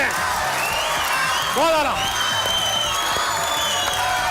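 A studio audience at the Hasna Mana Ha comedy show claps and cheers in a steady wash of applause, while someone speaks over it.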